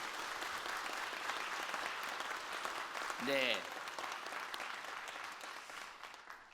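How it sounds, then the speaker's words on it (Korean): A large church congregation of youth and adults claps steadily as a broad, even wash of applause that carries on throughout, with a brief voice rising above it midway. "우리 박수합시다"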